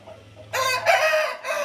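A rooster crows loudly and close by, a single drawn-out call with a brief break near the end, over a faint low hum.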